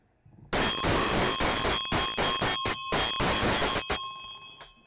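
Celebratory bell during a hockey trading card box break, rung rapidly and loudly for about four seconds in a continuous bright jangle, then cut off, with no talking.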